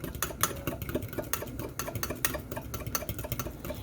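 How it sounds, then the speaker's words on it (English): A fork mixes butter and egg yolk in a bowl, a quick, steady run of close scraping taps and clinks against the dish with no talking. "I'm gonna use my fork and get this mixed up."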